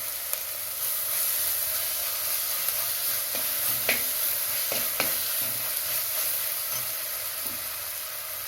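Turmeric powder and curry leaves sizzling in hot oil in a pan for a village-style egg kurma, a steady close hiss with a few faint stirring clicks and no voices.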